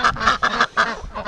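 Rouen breeding ducks quacking close by, a quick run of loud, harsh, nasal calls bunched together over about a second.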